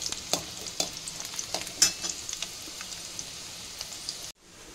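Chillies, urad dal and peanuts fry in hot oil in a kadhai on a gas stove for tempering, giving a steady close crackling sizzle with a few sharper pops and stirring scrapes, cutting off just before the end.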